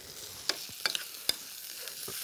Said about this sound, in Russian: Теперь я перемешаю все это ложкой.